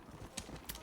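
Horse hooves clop in the video game Red Dead Redemption: Undead Nightmare, a few soft hoof strikes ringing out under a steady wash of game noise.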